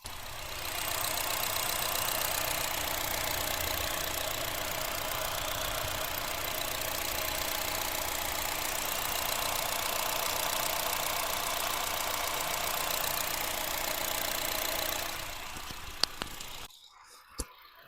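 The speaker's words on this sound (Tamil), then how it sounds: "இப்போ வண்டியோட இன்ஜின் நாய்ஸ், இன்ஜினோட சவுண்டை மைக்கை பக்கத்தில் வச்சு எப்படி இருக்குன்றதை உங்களுக்கு நான் ரிவ்யூ பண்ணுறேன் பாருங்க" A 2010 Honda City petrol engine idles close to the microphone, a steady even hum with a faint rhythmic tick that holds for about fifteen seconds, then cuts off with a few brief clicks and handling noises.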